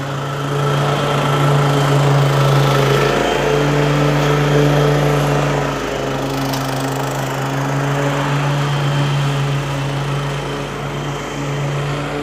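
A Honda 216 gas lawn mower runs steadily while cutting grass, its engine hum loud and continuous with slight swells in level, no voices present.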